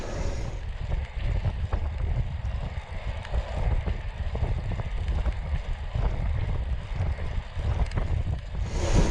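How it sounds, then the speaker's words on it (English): Steady wind buffets the microphone during an early morning road cycling ride in the New Forest, a continuous loud low rumble with gusty swells that lasts the whole stretch and has no talk over it. "So it's been into the wind the whole way up, hasn't it?"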